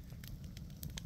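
A small campfire crackles faintly with scattered soft snaps over a low steady rumble, and no voices are heard.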